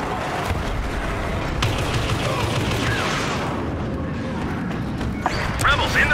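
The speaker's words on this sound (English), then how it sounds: "Ships are about to fire on our walkers." Ships fire on AT-AT walkers in a Star Wars Battlefront battle: a dense, continuous roar of blaster fire and booming impacts, with sharper blasts scattered throughout and game voices underneath.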